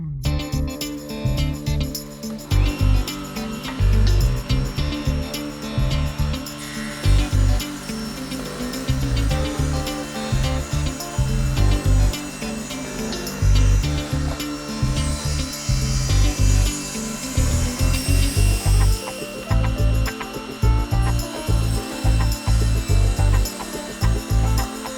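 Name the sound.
saw ripping the face off a wooden tenon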